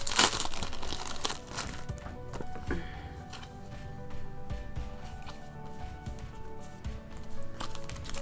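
A Pokémon Sword and Shield Rebellion Crash booster pack wrapper being opened by hand, with close, continuous crinkling and crumpling of foil plastic, a few sharper tearing bursts, and no talking.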